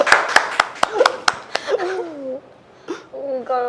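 Several close, sharp hand claps at a live ring-giving marriage proposal. A fast burst comes first, then the clapping stops and gives way to talking voices.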